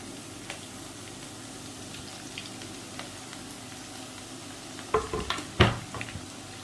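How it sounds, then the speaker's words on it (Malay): Sliced ingredients stir-fried in hot oil for an Indian-style fish curry, a soft steady sizzle broken near the end by several louder scraping and clattering stirs in the pan. "Setelah minyak panas, kita tumiskan kesemua bahan-bahan yang telah kita hiris tadi ya."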